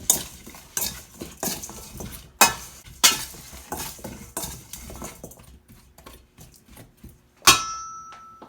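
Chopped corned beef and ingredients tossed in a bowl, giving a run of close, irregular clatters and scraping knocks of utensils against the dish, ending in one sharp ringing clink.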